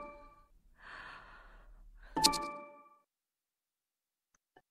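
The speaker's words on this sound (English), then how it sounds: "Can she please stop breathing into my ears before I really have a heart attack" A character in the video game Simulacra breathes close to the ear: a soft exhale, a longer breathy sigh, then a sharper gasp with a faint tone, after which the sound drops to near silence.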